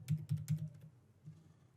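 A short run of keystrokes on a computer keyboard while naming a workflow, a few distinct taps close up followed by fainter trailing clicks, with no voices.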